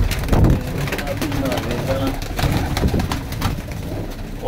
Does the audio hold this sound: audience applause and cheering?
no